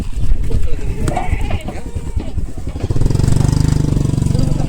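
Kathewadi goats bleating at a livestock sale, several loud calls near the mic mixed with crowd chatter and an idling engine, people talking throughout.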